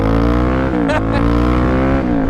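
A motorcycle with new suspension, engine droning steadily and loud throughout, with revs shifting as the rider accelerates; a voice can be heard over the engine.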